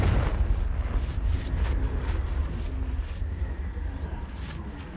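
A Confringo spell explosion in Hogwarts Legacy, a booming burst at the start that rolls into a fading rumble with scattered crackles, moderately loud and alone without talk.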